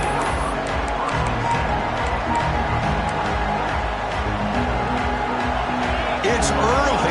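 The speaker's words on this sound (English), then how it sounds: "It's early, but this crowd is fired up. Listen to this noise here." A football stadium crowd at a UCF versus Georgia Tech game roars as a continuous, dense wall of distant noise, with commentators talking over it the whole time.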